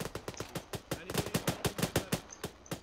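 Rapid bursts of automatic gunfire in the military shooter ArmA, a steady run of roughly a dozen sharp shots in quick rhythm, loud and close, with no talking.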